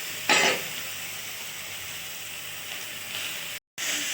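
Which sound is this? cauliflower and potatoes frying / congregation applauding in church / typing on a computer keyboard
cauliflower and potatoes frying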